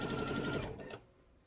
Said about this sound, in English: I'm going to sew all the way across for my binding until I get to the other side.